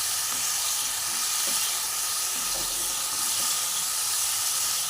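Potatoes cooked down with spices and sugar hiss and sizzle steadily in a hot pan. A constant close frying sound carries through, with faint stirring underneath and no voices.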